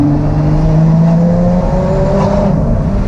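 A Lotus Exige Sport 380 sports car cruising on the road, its engine droning steadily from inside the cabin with a slowly shifting pitch and continuous tyre and wind roar, loud and unbroken with no voices.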